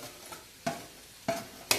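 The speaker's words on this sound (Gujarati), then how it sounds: "તો સરસ રીતે આપણે ખજૂરને હલાવતા રહેવાનું છે" Dates cooked in ghee in a pan are stirred with a spoon, giving three distinct scraping strokes over a quiet background sizzle.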